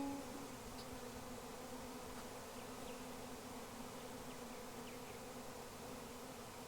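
A steady, dense buzzing of a swarm of bees in a backyard, droning continuously all around, without pause, under a faint low hum.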